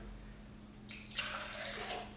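Room-temperature water pours into a mixing bowl for bread dough, a soft splashing stream starting partway through and running quietly to the end in a calm kitchen.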